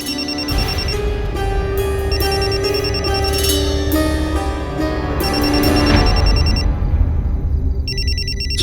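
A phone ringtone plays continuously, a melodic tune with steady electronic tones, loud and close, with no talking over it.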